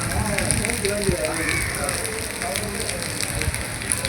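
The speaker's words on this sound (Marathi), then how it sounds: "पावसाचं आगमन झालं आहे" Dense, steady rain patters on surfaces close by, with faint voices murmuring underneath, at a crowded temple.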